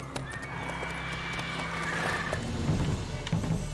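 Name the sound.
horse Roach neighing in The Witcher 3 video game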